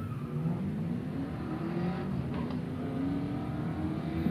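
A 1994 Ford Mustang drag racing car accelerates down the strip at a night drag event, its engine a steady, dense roar that holds fairly constant from start to finish with no voices.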